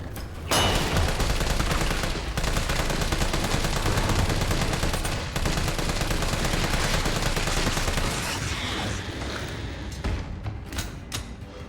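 Sustained automatic assault rifle fire in the video game Resident Evil 3, a loud continuous burst of rapid shots running for several seconds with a brief break, then tapering into scattered final rounds.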